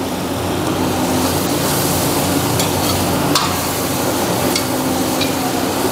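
Andhra style chilli chicken pieces fry in hot oil, giving a loud, close, unbroken sizzle that holds steady the whole time with no talking.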